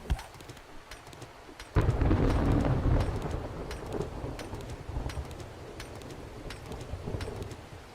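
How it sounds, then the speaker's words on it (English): Rain and thunder in the survival horror game 7 Days to Die: steady rainfall becomes suddenly heavier and louder as a low rumble of thunder rolls in, then settles into a sustained downpour with scattered drop hits. "I am worried about the rain."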